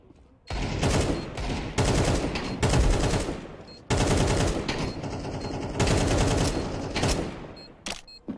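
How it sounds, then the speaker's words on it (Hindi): Heavy bursts of shotgun fire in the Counter-Strike 2 video game, several loud booming volleys in quick succession with brief gaps between them, close and dominant with no talk over them. "गंदा है वो शॉटगन"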